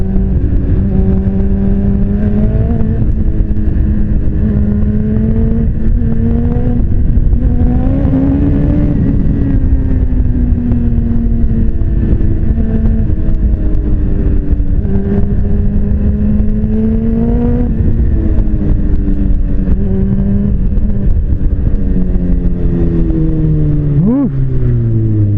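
A sport motorcycle, a Suzuki GSX-R750 or BMW S1000RR, being ridden, its engine droning loudly and rising and falling in pitch through gear changes, with heavy wind buffeting close to the rider.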